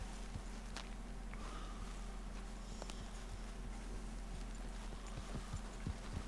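Horse hooves in a video game as the rider heads toward Valentine, a steady clip-clop of footfalls at walking pace, fairly quiet over a constant low hum, with no talk.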